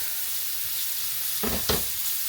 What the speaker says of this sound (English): So I'm going to add in my carrot pieces, because that's what you want to do, because the carrot takes longer to cook.